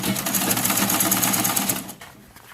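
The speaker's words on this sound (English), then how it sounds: "make sure you're not stitching on top of the pocket" A sewing machine runs at a steady fast pace while stitching an inseam side pocket, with close, continuous mechanical chatter for about two seconds before it stops and leaves a quieter room tone.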